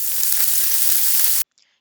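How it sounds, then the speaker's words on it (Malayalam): Chopped mustard greens hit hot oil in a pan with a loud, steady broadband sizzle that stops abruptly, followed by a faint brief clink. "ഇപ്പോൾ എണ്ണ ചൂടായിട്ടുണ്ട്. ഇതിലേക്ക് നമ്മൾ കട്ട് ചെയ്ത് വെച്ചിരിക്കുന്ന കടുകല ഇട്ട് കൊടുക്കുകയാണ്."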